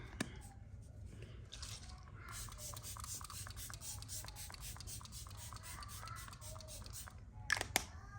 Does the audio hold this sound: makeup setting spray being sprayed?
yes